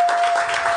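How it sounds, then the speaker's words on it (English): Applause from a live audience at a podcast taping at the A3C festival, a short dense burst of clapping with a steady tone running through it. "let's give these guys a round of applause"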